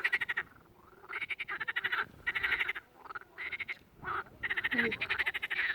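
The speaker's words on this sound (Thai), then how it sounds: "เสียงกบของที่นี่ค่ะ" Frogs croak in a marshy pond among grassland and wildflowers, a dense chorus of rhythmic pulsed croaks in repeated bursts with short pauses, fairly close and loud, with no talking.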